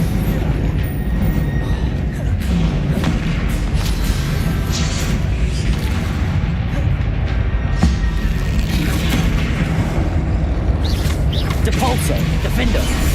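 Booming magical blasts of the Confringo spell in Hogwarts Legacy combat, loud and dense over constant game music and effects, with a voice calling out spell names.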